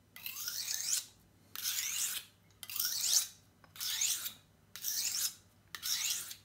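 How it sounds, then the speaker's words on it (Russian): A kitchen knife is sharpened by hand without any machine, giving six evenly spaced rasping strokes, each lasting about a second with short pauses between, close and fairly quiet. "то есть мы не в эту сторону вот так вот точим, а именно как будто срезаем тонкий слой."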